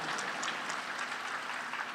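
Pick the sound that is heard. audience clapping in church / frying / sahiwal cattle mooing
audience clapping in church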